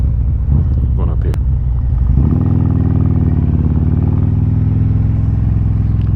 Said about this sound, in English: Everybody's skiing and snowboarding, and I'm on my motorcycle.